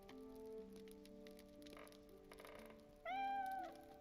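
A house cat meows softly over a faint background of quiet tones, then gives one louder, drawn-out meow near the end.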